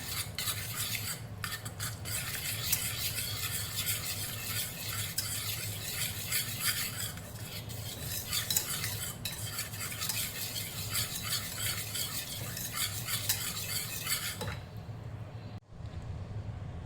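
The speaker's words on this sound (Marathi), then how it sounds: "दही आपल्याला फेटून घ्यायचं आहे छान" Yogurt being whisked in a pan, a fast continuous scraping and rubbing rhythm close by that stops near the end.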